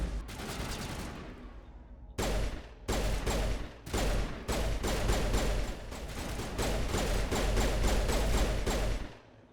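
Rapid gunfire from the video game Mass Effect Legendary Edition: dense, loud bursts of automatic shots with brief gaps, continuing almost nonstop and ending abruptly, no speech over it.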